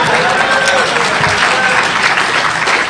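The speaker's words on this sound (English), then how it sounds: "Applause." Audience at a Defcon conference talk bursting into applause, dense continuous clapping from a large crowd, loud and sustained with some voices mixed in.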